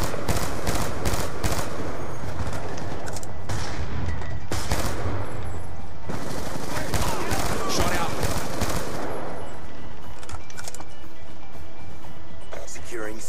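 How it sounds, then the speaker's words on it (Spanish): Rapid bursts of automatic gunfire from a friendly hunter killer drone crackle continuously in a game, with dense repeated shots and a brief pause before firing resumes and fades. "Unos disparos de friendly hunter killer drone."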